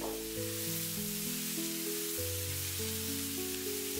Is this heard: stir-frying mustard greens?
yes